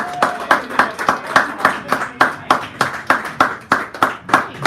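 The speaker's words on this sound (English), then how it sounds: "Give her a round of applause, please." Audience applause at a poetry hour in a San Francisco cafe: a small gathering claps in a sparse, distinct rhythm of roughly fifteen separate hand claps, close by and fairly loud.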